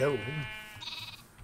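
Sheep bleat in a video game, one wavering bleat up front with a fainter high bleat following, while someone speaks briefly over the start.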